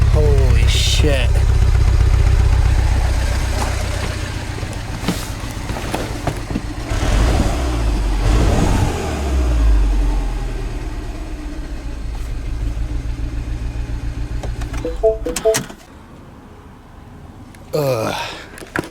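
A Mini Cooper S engine running rough with a cylinder-one misfire, with a steady low rumble that holds loud and close for most of the stretch, then drops away before a brief final rise, with voices heard over it.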